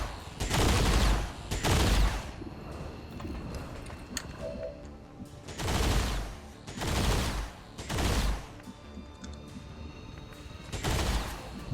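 XCOM 2 combat gunfire comes in repeated heavy bursts of automatic fire a second or two long, separated by quieter gaps.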